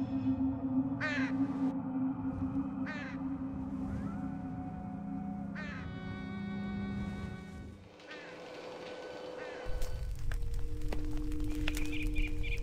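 Large black crows caw in a ghost-hunting adventure game, several harsh drawn-out calls spaced apart over a steady low ambient drone, followed by a shift to a different, busier background near the end.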